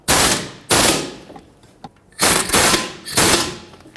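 Power tool tightening the front strut bolts on a 2003-2008 Toyota Corolla: four loud, close bursts of rapid rattling impacts, each lasting about half a second, separated by short pauses.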